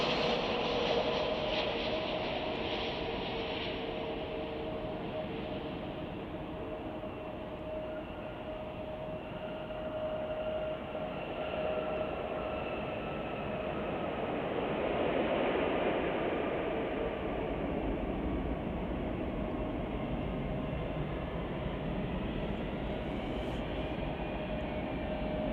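A Frontier airliner arriving from Atlanta at Chicago O'Hare makes a broad, steady roar that swells and eases over about twenty-five seconds, heard from a distance with no voices.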